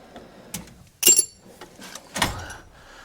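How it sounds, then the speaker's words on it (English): A workshop drawer is pulled open and pushed shut in a shop storage setting, giving a few short, close sliding thumps and clacks, with a sharp burst of rattle in the middle and another slide near the end. "I got to put these back in a drawer over here."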